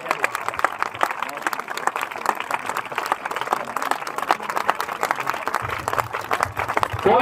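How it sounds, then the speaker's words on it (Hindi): Applause from a crowd gathered at a block-level school sports competition, a steady wash of clapping running throughout, fairly loud and mixed with speech and crowd noise. "सभी लोग तालियां"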